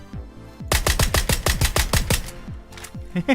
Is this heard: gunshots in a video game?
yes